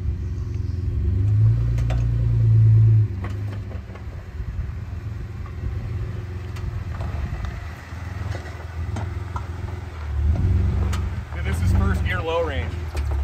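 An off-road vehicle rumbles along the Rubicon Trail, its engine drone steady and low with rises in revving, while people talk over it throughout.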